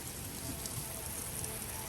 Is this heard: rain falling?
yes